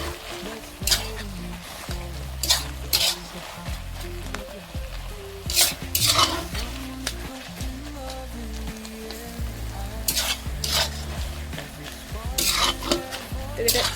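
Vegetables for a village-style Bengali chorchori being stirred in a frying pan: soft sizzling under irregular scrapes and clinks of a utensil against the pan, close by and repeated throughout.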